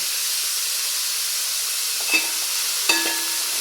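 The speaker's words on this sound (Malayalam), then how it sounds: "ഇത് നന്നായി വഴന്ന് വരുന്നത് വരയ്ക്കും നമുക്ക് ഇളക്കി കൊടുക്കാം." Onions frying in a pan for chicken biryani give a steady broadband sizzle, broken by two brief clinks of a spoon stirring against the pan, with no voices.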